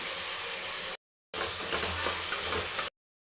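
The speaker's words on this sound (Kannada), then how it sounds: "ಟೊಮೊಟೊ ಹಾಕಿದ್ದೀನಿ ಇವಾಗ ಒಂದು ಐದು ನಿಮಿಷ ಚೆನ್ನಾಗಿ ಫ್ರೈ ಮಾಡ್ಕೊತೀನಿ" Tomatoes frying in a pan, a steady broadband sizzle in two bursts with a short silent gap between them, moderately loud and with no talking.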